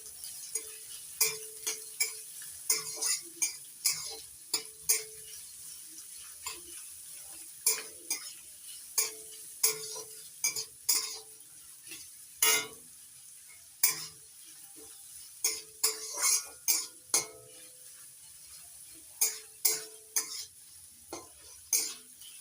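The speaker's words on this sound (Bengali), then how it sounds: "পেঁয়াজ কুচিটাও লাল করে ভেজে নেব" Chopped onions fry in a pan under a faint steady sizzle, while a spatula scrapes and taps the metal in repeated sharp strokes at an uneven pace, close and fairly quiet.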